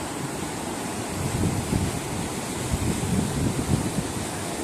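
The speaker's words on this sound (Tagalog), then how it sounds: "Ayan ang kaganapan sa gabi sa kalagitnaan ng karagatan." Ocean waves and gusting wind at night mid-sea from a cruise ship deck bound for Galveston, a continuous rushing roar with swells of surf and low wind buffeting, no talk.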